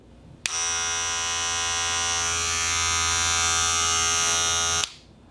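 A Wahl Magic Clip cordless hair clipper switches on and buzzes steadily with a bright, humming tone for about four seconds, then cuts off.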